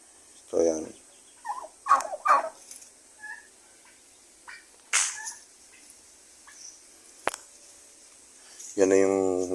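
Lone male turkey on a Philippine farm gobbling in short bursts, several rattling calls spread across the span and one louder gobble at the end, with someone talking quietly between them.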